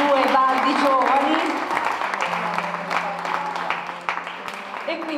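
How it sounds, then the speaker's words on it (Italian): An audience at the Borgo Albori 2018 award ceremony claps for two young men. The applause is moderately loud and mixes with voices talking over it. "un applauso a questi due baldi giovani."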